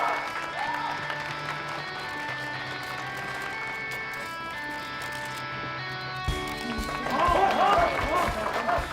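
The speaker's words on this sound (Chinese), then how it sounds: "掌声欢迎。" An audience claps to welcome fifteen beauty influencers onto a stage, with a brief burst of applause rising near the end over soft, steady background music.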